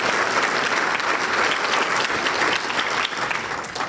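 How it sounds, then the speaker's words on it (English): An audience bursts into sustained, dense applause, many hands clapping steadily at full volume before it tapers slightly near the end. "That's a bigger applause than I got"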